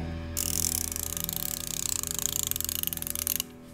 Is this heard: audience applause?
no